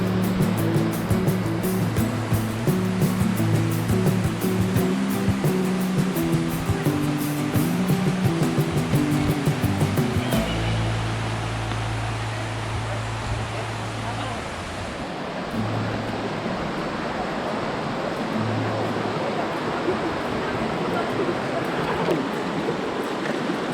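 River water at Malino Hills Resort rushes in a loud, continuous wash, with a mechanical drone layered over it for the first half before the flow carries on alone.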